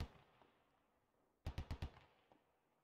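MG3 machine gun fire in the video game Squad, a quick distant burst of four sharp shots in even rhythm after near silence, followed by fainter echoes.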